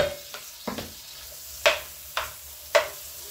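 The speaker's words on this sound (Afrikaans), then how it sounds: "Ons braai 'n uitjie." Onion frying in a pan at home, a soft sizzle with several sharp scraping stirs spaced about a second apart, close and fairly quiet, no talking.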